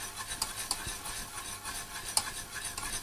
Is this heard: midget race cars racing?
no